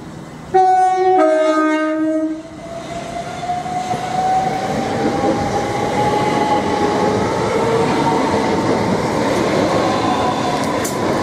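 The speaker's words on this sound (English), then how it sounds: "Please stand clear from the train at Platform 2. This train is ready to leave." A train at a railway station platform sounds two short horn blasts, then a steady rising electric whine and rumble of rolling stock as it pulls away, loud and close with no talk.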